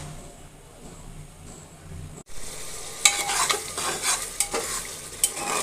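Spices for a beef tripe curry fry in a pan. After a quiet start, loud sizzling breaks out, with scraping stirs and occasional clinks of a utensil against the metal.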